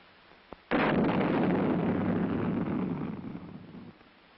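An Honest John artillery rocket fires from its launcher rail with a sharp click, then a sudden loud roaring blast that rumbles steadily for about three seconds before tapering off.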